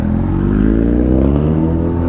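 A BMW G310RR motorcycle idles loud and close, its exhaust giving a steady, throaty drone with a slight rise in revs midway and no talking.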